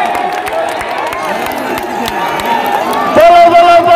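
Crowd at a village wrestling match cheering and clapping amid shouts, busy and loud throughout, swelling louder near the end.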